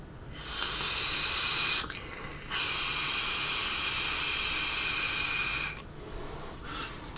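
Two long, loud hissing draws on a Lost Vape sub-tank vape, close to the mic, each a steady airy rush of a few seconds separated by a short pause, with a faint brief puff at the end.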